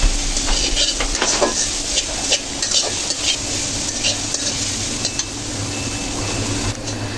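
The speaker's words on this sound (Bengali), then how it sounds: "দেখো কত সুন্দর করে কি সময় নিয়ে পেঁয়াজ আর রসুনটাকে ব্রাউন কালার করে ভেজে নিচ্ছি" Chopped onion and garlic frying in a pan until brown, a steady oily sizzle close by with repeated scrapes and clinks of a spatula stirring against the metal.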